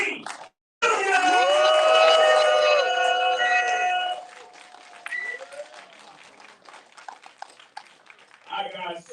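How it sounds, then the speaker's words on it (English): An audience at a film screening Q&A whoops and cheers loudly over applause, then the noise thins into scattered, fading claps and murmurs. "Big round of applause."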